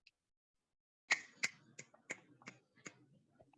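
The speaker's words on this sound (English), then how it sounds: "let's give Jane some snaps, some finger snaps" A small group snaps their fingers in appreciation, about half a dozen crisp, separate snaps at an uneven rhythm, close and fairly quiet against a silent background.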